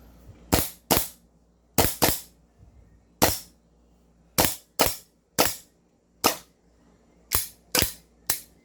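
A 2011 Costa Ludus airsoft gun fires about thirteen sharp, loud cracks in irregular single shots and quick pairs, each snapping out clearly against a quiet background.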